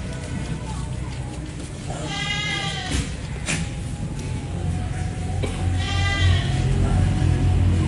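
Goats in a farm shelter bleat twice, each a wavering, quavering call at moderate distance, over steady background rumble and shuffling.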